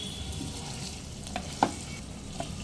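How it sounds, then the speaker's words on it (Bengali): Chicken boiling down in a pan on a medium-low flame, its water nearly dried off, gives a soft, steady sizzle. A few faint scrapes and taps of a spatula turn the pieces. "এইভাবে উল্টে পাল্টে নেড়ে জলটা শুকিয়ে আসা পর্যন্ত চিকেন সিদ্ধ করে নিতে হবে।"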